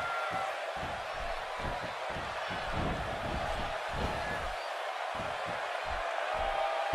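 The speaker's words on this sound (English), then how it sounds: "you can't tell me this Portland crowd isn't fired up. Just listen to them." A large crowd at a wrestling event in the video game WWE 2K18 roars steadily, a dense wash of cheering and noise, with rhythmic low thumps pulsing beneath it throughout.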